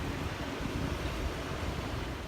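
Massive ocean waves roll in on a stormy southern coastline, a dense, continuous roar of surf mixed with wind buffeting the microphone, with no voices.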